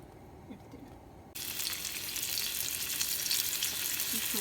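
Anchovy fish drop into hot avocado oil, and a loud, steady sizzle of frying starts suddenly and continues evenly to the end, after a quieter stretch with faint kitchen noises.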